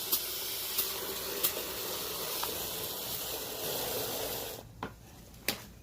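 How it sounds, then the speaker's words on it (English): Water runs steadily into a bucket for a rotary tumbler, a broad continuous hiss that stops near the end, followed by a couple of sharp knocks. "we're going to fill this bucket almost all the way full of water"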